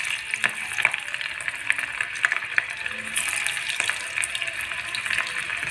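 Plenty of garlic sizzles in hot oil over a low gas flame, giving a soft, steady crackle with scattered sharper pops and spits across several seconds.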